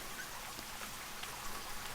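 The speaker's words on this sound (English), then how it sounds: "Alright, hop in the shower" Steady hiss of running shower water in The Sims 2, a continuous rain-like spray at moderate level with no voices.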